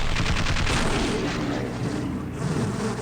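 Automated turret in the video game Half-Life firing continuously, a dense, loud rattle of rapid gunfire with booming low end that barely lets up for the whole stretch, with no voices.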